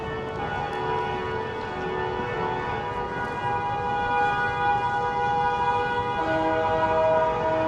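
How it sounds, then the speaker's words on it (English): City street in Manhattan, with several sirens wailing and holding long tones over a constant rumble of traffic, growing somewhat louder toward the end, and no talk. "Car horns and sirens"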